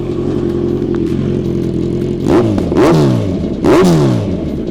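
Kawasaki Z1000 motorcycle with an aftermarket exhaust idling with a steady low rumble, then blipped through three sharp throttle revs that rise and fall, loud and close with no talking.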